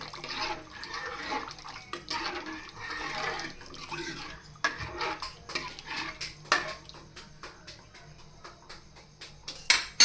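Garlic chutney stirred into a cooking vegetable dish in a home kitchen, with scattered clinks and scrapes of a utensil against the pot, irregular and close, with soft watery clatter throughout.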